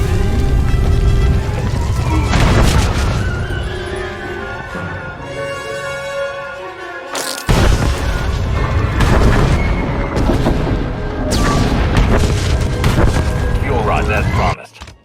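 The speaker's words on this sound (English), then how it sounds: "the explosion triggered a chain reaction in the planet's core" On the planet Makeb in the SWTOR video game, a massive explosion produces a series of loud, deep booms and rumbling blasts that fill the scene, with a brief lull near the middle before the roar resumes.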